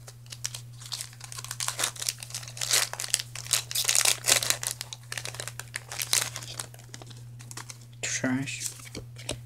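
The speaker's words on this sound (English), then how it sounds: "this pack just opened up easily" A Pokémon trading card booster pack crinkles and tears open close up, with bursts of foil rustling over a steady low hum and a person speaking.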